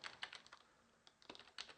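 Soft clicks of a computer keyboard as a short command is typed, a quick scatter of faint key taps close by.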